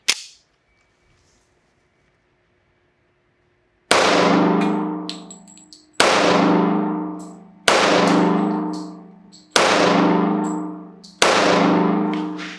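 A MAC 1911 MEUSOC .45 ACP pistol firing lead Blazer ammunition at a range: five loud, sharp, close shots spaced about one and a half seconds apart, each with a ringing decay, after a faint click and silence.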